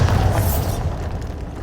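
A Bombarda spell explosion in Hogwarts Legacy, bursting at once into a loud, deep boom with a bright crackle that fades into a rumbling tail.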